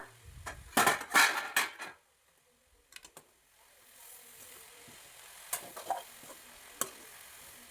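Pumpkin leaf thoran stirred in a pan, Kerala style, opening with a cluster of loud clattering scrapes of a spoon against the pan, then a quiet stretch and a few more scattered stirring knocks over a faint low sizzle.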